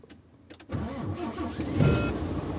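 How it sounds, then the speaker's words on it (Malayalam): A Volvo 460 truck's diesel engine cranks briefly, then catches and settles into a steady, loud idle close by. "അതിനുശേഷം നമ്മൾ സ്റ്റാർട്ട് ചെയ്തു."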